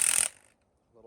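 A wrench loosening the bolts of a strut spring compressor on a Coyote Mustang, a brief bright metallic ratcheting burst at close range that fades out, followed by a faint low hum.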